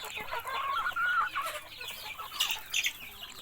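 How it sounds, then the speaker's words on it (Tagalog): Native chickens clucking and murmuring nearby in short overlapping calls, a steady chatter of farmyard fowl with a few sharper squawks near the end. "Papakain ako ng aking mga manok."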